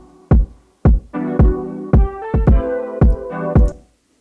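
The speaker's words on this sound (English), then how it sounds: "We have that ghost kick that is not as loud." Bouncy beat built in Logic Pro X: punchy kicks land on the beat with a quieter ghost kick slipped in, under warm sustained chord stabs that shift pitch, no talking.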